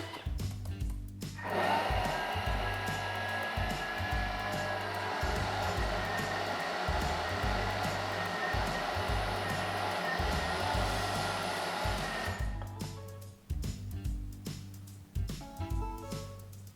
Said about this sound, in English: we scrape down the sides and we're going to go and grind it for another minute